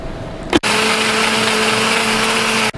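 A blender purees cream with a whole egg and an egg yolk for a celeriac flan, running as a loud, steady whir that starts abruptly after a brief click and stops cleanly near the end, with no talking.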